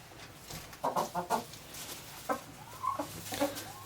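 Chickens at a farmhouse coop give several soft, scattered clucks and short calls at moderate distance, faint against a quiet outdoor background with no talking.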